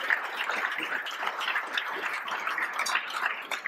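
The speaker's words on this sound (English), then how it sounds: "give me a mercy applause" A steady wash of audience applause at a speech about farm labor organizing, continuous and fairly even for several seconds with no pauses, sounding somewhat distant and roomy.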